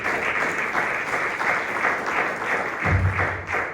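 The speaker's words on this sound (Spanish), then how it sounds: "Regalen una ofrenda de palmas al Señor." A church congregation claps steadily for several seconds in a dense, reverberant wash of applause, with a low thump joining near the end.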